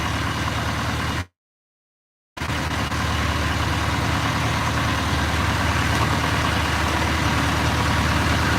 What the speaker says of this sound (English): Boat's running good.